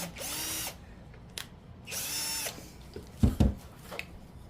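A power drill with a bit drives into a piece of wood during a spring DIY project, whining in two sustained bursts with a couple of sharp knocks near the end, close and fairly loud.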